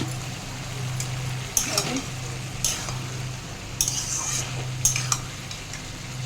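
Prawns fry in a pan over ginger and garlic paste with a steady sizzle, broken by several sharp metallic scrapes and clinks of a spoon stirring, close and fairly loud.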